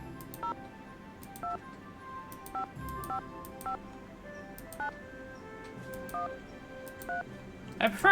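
Touch-tone phone dialing in the Nancy Drew: Ghost Dogs of Moon Lake video game, a series of short, even-spaced keypad tones beeping one after another over a quiet background, with a brief louder burst at the end.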